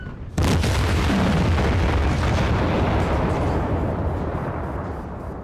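A single loud, close tank cannon shot in the World of Tanks game hits as a sudden heavy boom, then a long rumbling tail that fades slowly with no talking.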